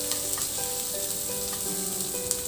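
Onions sauté in a pan for pork estofado, giving a close, continuous sizzle with faint spitting crackles and light stirring, alone without talk.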